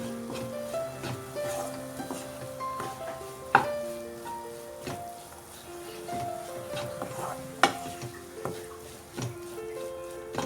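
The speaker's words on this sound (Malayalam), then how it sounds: "ഇനി ഇത് 2-3 മിനിറ്റ് ഇതിൻ്റെ എല്ലാം പച്ചമണം മാറുന്നത് വരെ ഒന്ന് വഴറ്റിയെടുക്കാം." Coriander-powder masala sautéing in a pan for Kerala-style mutton roast, with soft sizzling, a utensil stirring and scraping, and a couple of sharp clanks against the pan, alone without talk.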